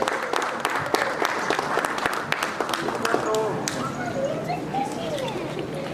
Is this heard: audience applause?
yes